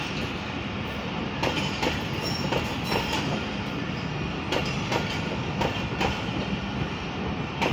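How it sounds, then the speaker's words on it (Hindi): Rehman Baba Express passenger train at Drigh Road station, a steady close rumble of wagons rolling past with rhythmic clickety-clack wheel beats and faint squeals throughout. "47 अब रहमान बाबा एक्सप्रेस"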